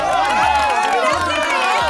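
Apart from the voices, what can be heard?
studio audience cheering and applauding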